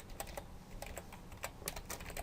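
Rapid keystrokes on a computer keyboard as code is entered into a PHP file for a FuelPHP app, a steady run of light, close clicks with small pauses and no talking.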